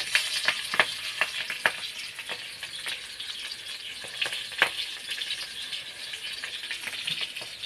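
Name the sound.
tempering black cumin and green chilies sizzling in oil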